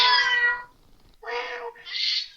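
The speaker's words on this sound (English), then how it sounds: "I hear a cat." A cat meows three times in close succession, clear and fairly loud, with the third call higher and more strained; no talk over it.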